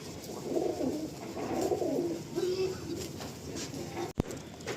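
Kalanka high flying pigeons cooing softly nearby in low, rolling calls, with a faint rustle and a single sharp click near the end.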